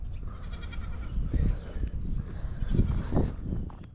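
Sheep bleat a few times close by after a difficult lambing, short wavering calls over soft rustling and shuffling, with no talking.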